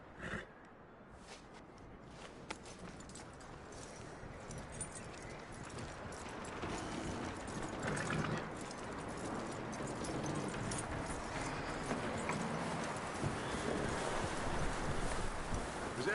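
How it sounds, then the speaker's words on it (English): Horse hooves clip-clopping in the video game Red Dead Redemption 2, a continuous soft patter of hoofbeats over a steady ambient wash, fairly quiet and without talk. "That looks like a decent horse."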